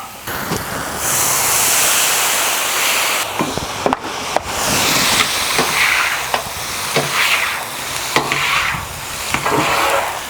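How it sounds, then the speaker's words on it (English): A metal scraper scraping a hot Blackstone griddle top clean while hibachi food is cooked in a backyard. Continuous loud rasping and sizzling is broken by a series of sharp scraping strokes and taps, with no one talking. "Now when I'm scraping, I'm not really pushing hard against the thing. I'm just kind of letting my scraper do the work."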